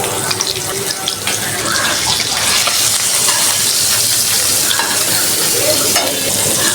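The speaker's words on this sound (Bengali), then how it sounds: "মাছটা ভাজা হয়ে গেছে" Spice-marinated fish sizzles in a frying pan in a home kitchen, a steady, dense crackle and hiss that stays loud and even throughout with no voices.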